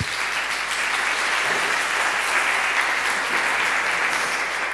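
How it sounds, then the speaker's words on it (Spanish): Audience applause at a Spanish-language talk on SEO for the footwear sector, a dense, steady wash of clapping that holds at an even volume for the whole stretch, with no voices over it. "Un aplauso para Virginia por..."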